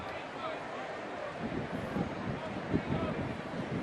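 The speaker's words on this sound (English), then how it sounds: "Sounds windy up there, too." Steady gusting wind buffets the microphone at a Fenway Park baseball game, a broad low rumble with brief louder puffs, while faint crowd noise sits underneath.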